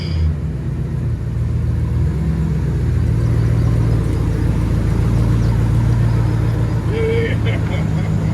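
A 2007 Chevy Avalanche with a 5.3L V8 and straight-pipe true dual exhaust rumbles deeply and steadily at close range, with a throaty low drone and slight swells in revs, while voices talk faintly over it.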